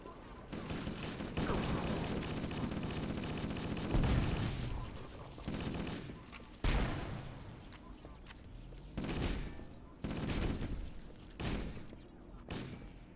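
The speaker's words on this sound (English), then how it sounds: "Oh, assault rifles." Halo: Combat Evolved assault rifle fire: dense, rapid, continuous bursts with heavier thumping impacts, dropping briefly between volleys near the end.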